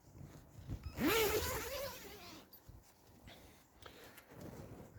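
A zip tie is pulled tight one-handed around garden poles reinforced with wood, giving a single quick ratcheting zip lasting about a second, close and clear against a quiet outdoor background.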